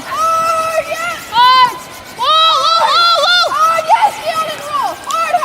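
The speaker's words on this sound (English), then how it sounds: "They're maybe competing to see who can give the loudest cheer." A crowd of students cheering at a curling match, rising shouts and excited yelling in bursts, with a close commentator talking over the crowd.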